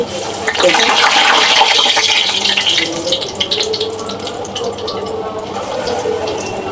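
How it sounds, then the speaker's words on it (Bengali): Potatoes go into hot regular cooking oil in a wok and fry with a loud, dense, continuous bubbling hiss that stays close and steady throughout. "তেল গরম হয়ে আসলে আলুগুলা এভাবে লাগিয়ে নিয়েছি চুলাই দিয়ে দিচ্ছি"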